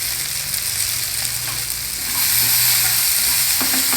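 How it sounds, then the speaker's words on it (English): Channa sundal with fresh grated coconut is stir-fried in a pan, producing a steady close sizzle with scraping and stirring noises that grows a little louder halfway through. "stir fry everything well together"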